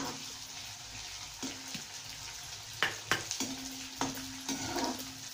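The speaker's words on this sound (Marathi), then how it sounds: "हा डिंक आपल्याला थोडा थोडा करून तळून घ्यायचा आहे." Edible gum (dink) frying in hot ghee over a medium flame, a soft bubbling sizzle broken by several sharp scrapes and clinks of a stirring spoon.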